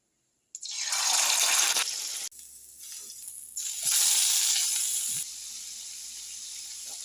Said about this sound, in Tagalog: Malamig na tubig yan.